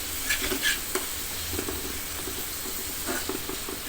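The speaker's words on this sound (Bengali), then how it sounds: "ভালো করে নেড়ে নেড়ে মশলাটা কষিয়ে নিব।" A spoon stirs spice masala frying in a pan for a dry fish curry with jackfruit seeds, giving soft scraping clicks over a steady sizzle and hiss, close and fairly quiet.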